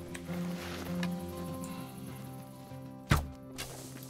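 A hunting rifle is reloaded in theHunter: Call of the Wild, with a sharp mechanical clack followed by a softer click, set against a quiet steady outdoor ambience.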